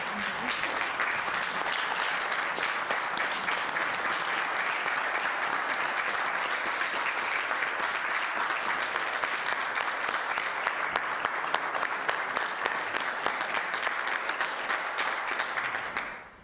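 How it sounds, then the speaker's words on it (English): Sustained applause from a large crowd at a town Select Board meeting, steady and dense throughout with no pauses, fading out at the very end. "a round of applause"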